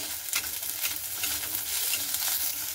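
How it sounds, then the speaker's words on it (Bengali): Garlic and green chillies stirred in a frying pan for a cauliflower and egg curry, with a bright close sizzle and repeated spatula scrapes over the hiss, and no talking. "রসুনটা কিন্তু আমি দিয়ে আর একটু ভালো করে নাড়াচাড়া করে নেব"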